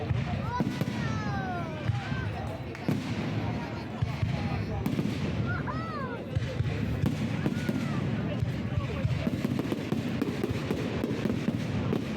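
Fireworks go off in Cesano near Milan in a steady stream of crackling bursts with occasional rising whistles, some at a distance, while voices murmur beneath the noise.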